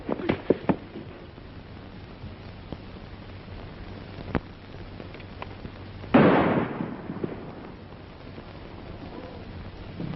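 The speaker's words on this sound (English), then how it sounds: "That shot came from over there." A gunshot in a 1945 western film, a sharp sudden crack midway followed by a short rumbling tail, with scattered faint clicks and pops around it in a hissy old soundtrack.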